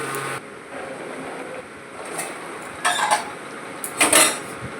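A metal lid set on a cooking pot of traditional Bengali lau shak: a few light metallic clanks and rattles, with the two loudest knocks near the end, over a soft kitchen hum.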